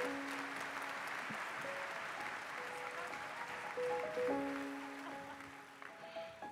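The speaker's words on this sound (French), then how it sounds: "Applaudissements un peu plus nourris" An audience claps in the Vendée Espace hall at a cycling event, a steady sustained applause at some distance with tonal sounds ringing over it.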